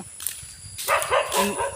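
A dog barks in a few short bursts on an outdoor road, moderately close, with background noise and no clear speech.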